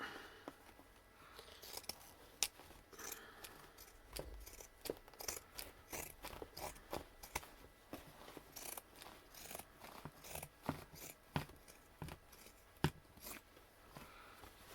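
Scissors snip through fabric while a trouser leg is cut off for a slow-stitch project, a long run of sharp, close cuts in an irregular rhythm.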